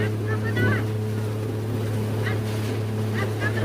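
A motorboat engine drones steadily with a low hum, water churning and splashing around it, faint voices occasionally calling out over the noise.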